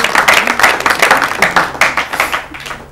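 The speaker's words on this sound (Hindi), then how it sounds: "इनके लिए तालियां बजाइए।" Audience applauding a contestant at an Urdu-language quiz programme, a lively pulsing round of clapping from a modest crowd, close and loud throughout.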